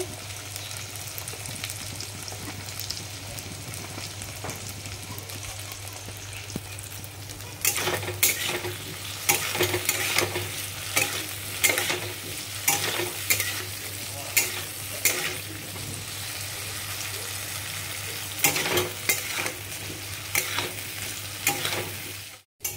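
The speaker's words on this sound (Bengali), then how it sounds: "আলুটা ভাজা হয়ে গিয়েছে।" Potatoes fry in a pan with a steady sizzle, joined after the first few seconds by repeated scraping and clinking strokes of a spoon stirring them, close and fairly loud, with no talking.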